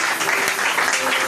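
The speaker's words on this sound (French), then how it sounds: "Est-ce qu'on peut acclamer le Seigneur d'abord?" A church congregation claps together in a steady, dense wash of applause that fills the room, with faint voices mixed in beneath it.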